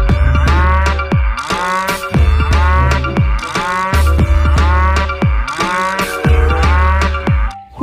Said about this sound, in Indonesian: Ini sapi.